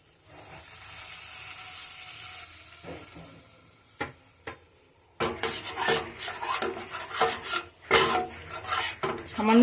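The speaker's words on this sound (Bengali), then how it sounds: "এবার আমি মশলাটা ভালো করে কষে নেব।" Spice paste frying in a pan while being stirred, with a soft sizzle under scraping of the spoon against the pan, then livelier clattering stirs and scrapes close by.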